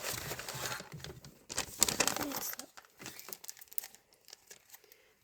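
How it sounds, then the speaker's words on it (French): An adhesive sticker is peeled off an advent calendar in short crinkling, tearing bursts with paper rustles, close by, fading into softer handling noises. "Là, on s'est décollé l'autocollant."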